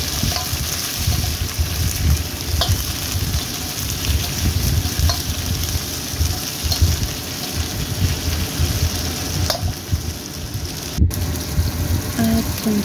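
Shrimp fry in hot oil in a pan for a pasta in squid sauce, giving a loud, continuous close-up sizzle with occasional clicks and stirring knocks and no voices.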